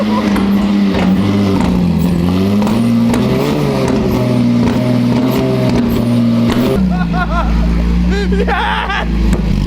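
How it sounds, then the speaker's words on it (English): A rebuilt Lamborghini Murciélago engine, refitted in the car, starts for the first time and settles into a loud, steady idle with rising revs, while people talk and shout excitedly over it. "today is finally the day we put the Murciélago engine back in the Murciélago and start it"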